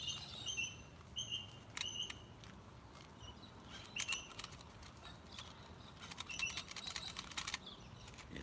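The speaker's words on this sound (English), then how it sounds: "the birds get excited this time of night" Small birds chirp and tweet at dusk in short repeated bursts over a quiet, steady background, some calls close and others farther off.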